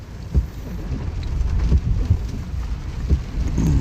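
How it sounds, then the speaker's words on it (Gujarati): Heavy monsoon rain pours down in Kundla as a dense, steady roar with a low rumbling undertone. There are no pauses, and it sounds loud and close. "વરસાદ બહુ છે"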